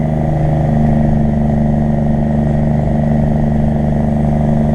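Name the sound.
Cummins truck engine rumbling while driving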